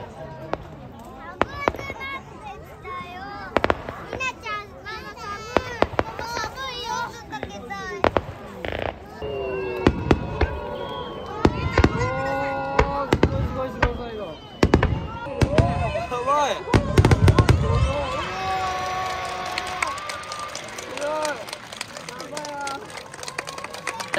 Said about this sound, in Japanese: 人生初めての花火、打ち上げ花火どうだった？